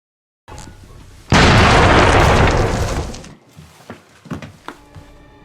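A homemade bomb goes off in a warehouse in a film scene, bursting into one loud, close blast that rumbles for about two seconds before fading into scattered debris thuds and clatter.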